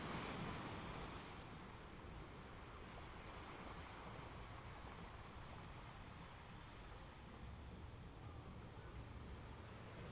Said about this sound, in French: Ces vagues qui grandissent, puis qui déferlent.